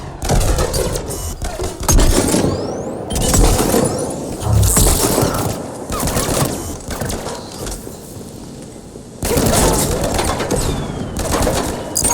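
Gunfire in the Mass Effect 3 video game, loud bursts and volleys of shots with crashing impacts in a chaotic firefight, pausing briefly before resuming.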